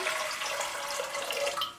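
Water pours from a tap into a large cooking pot in a village kitchen, a steady splashing stream heard close and fairly loud, alone without talk.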